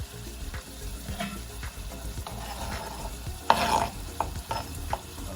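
Red and green peppers stirred in a pot while they cook. A spoon scrapes and clatters close by over a low sizzle, with one louder burst of stirring partway through and no talk.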